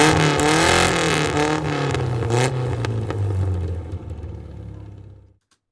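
An FIA F4 race car engine in the iRacing sim at Okayama revs and shifts through gears, loud and close, then winds down and cuts to silence.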